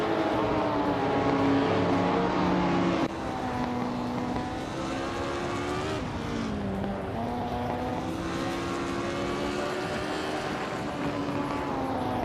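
Race cars roar through a racing video game, several engine tones rising and falling in steady harmonic whines that sweep and shift as cars jostle for position, loud and continuous with no voices.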